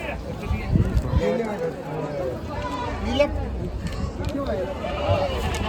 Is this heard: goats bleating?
yes